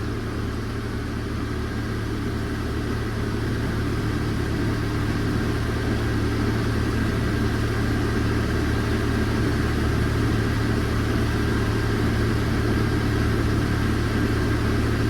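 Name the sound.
Chevy S10 engine idling with a bad exhaust leak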